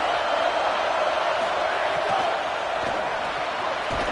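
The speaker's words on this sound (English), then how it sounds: "how nice is it to have the home crowd going absolutely bananas?" Home crowd at a college football game, ASU hosting the LSU Tigers, roaring loudly and continuously as a dense, steady wall of noise.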